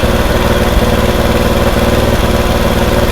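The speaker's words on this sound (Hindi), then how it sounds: "देखो बाइक का स्पीड और भी बढ़ रहा है" A motorcycle engine runs loud and close during carburetor mileage adjustment, a steady, rough, pulsing drone with little change in pitch as the throttle is eased open.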